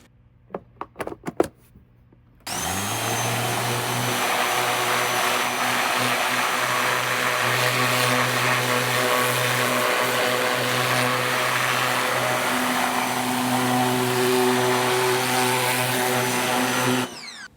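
A pressure washer sprays a car's engine bay, starting abruptly after a few clicks and handling noises, then holding a loud, steady whooshing hiss and motor drone close by until it cuts off.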